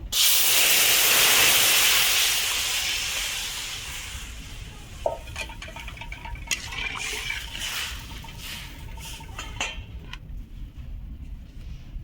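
Milk poured into a hot pan where cashews and raisins have just been fried, for jaggery rice payesh, gives a loud hissing sizzle that settles into a steady bubbling simmer with a few clinks of utensils.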